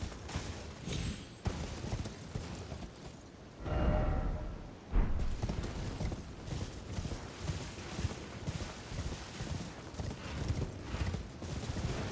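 A horse galloping in Elden Ring: Shadow of the Erdtree, rapid rhythmic hoofbeats running throughout, broken by a heavier landing thump midway as from a jump, with no talking over it.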